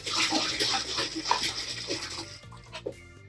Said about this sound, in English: I'm pouring distilled water in here.